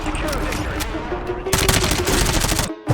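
Heavy rapid-fire gunfire from Call of Duty Warzone with a modded weapon, a dense sustained automatic burst that breaks off briefly near the end, loud and close.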